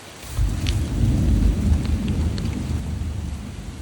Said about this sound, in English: Very distinct thunder.